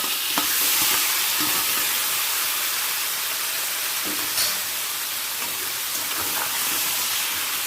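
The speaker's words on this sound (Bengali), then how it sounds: "তেলের সাথে ভালো করে কচু শাকটাকে মিশিয়ে নিচ্ছি" Chopped taro leaves stirred and fried in hot oil in a pan over a medium-high gas flame: a loud, continuous hissing sizzle broken by occasional scrapes of the stirring spoon, heard close and alone.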